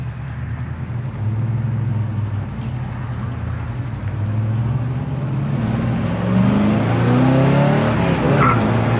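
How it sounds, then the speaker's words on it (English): A 1976 Corvette Stingray pulls away hard from a standing start, engine rising in pitch as it accelerates, with tires chirping briefly near the end, loud and close. "I can get the tires chirp a little bit"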